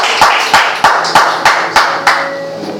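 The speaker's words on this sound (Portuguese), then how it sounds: "Você pode aplaudir a Deus por essa palavra?" Church congregation clapping in a steady, unified rhythm, about eight loud, evenly spaced claps close by, with a faint sustained tone in the room behind them.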